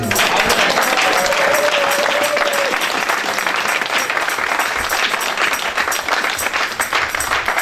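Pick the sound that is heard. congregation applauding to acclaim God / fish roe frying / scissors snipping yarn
congregation applauding to acclaim God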